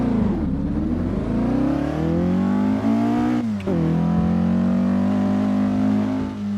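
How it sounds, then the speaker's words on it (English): A Porsche flat-four race car from the 1960s driving at Spa in a racing simulator, its engine loud and close, revving up steadily, dropping briefly at a gear change, then pulling hard again. "I like the sound of this engine better than either of the other two, despite it only being a flat 4."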